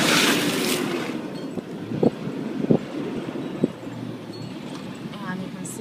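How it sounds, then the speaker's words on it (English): A Land Rover LR3 drives through water on a beach off-road track near the dunes, a rushing wash with a few splashy thumps under wind noise and faint talk. "I'm going to go through some water here."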